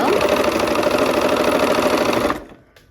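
A sewing machine runs in one continuous, fast, loud whir while stitching barn quilt units, then stops abruptly near the end, leaving near silence.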